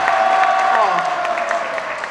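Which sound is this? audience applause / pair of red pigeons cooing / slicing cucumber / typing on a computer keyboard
audience applause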